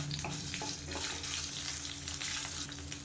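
Garlic cloves, ginger pieces and spices sizzle in hot oil for an egg gravy, giving a close, continuous crackling fry with small bursts of spatter throughout.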